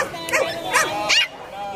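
Small Pomeranian dogs give several high, yipping barks in quick succession, fairly close, at an outdoor dog walk near a city hall. A person talks underneath the barking.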